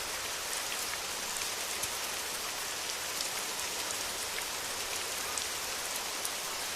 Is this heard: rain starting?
yes